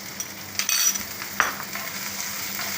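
Capsicum and corn sautéing in oil for a vegetable lasagna wrap, a soft steady sizzle with a few brief scrapes and stirring clatters close by.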